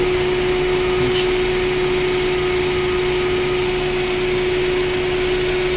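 A Lada Granta engine runs with its coolant boiling and air escaping, giving a loud, steady whine and hiss that continues unbroken through the few seconds.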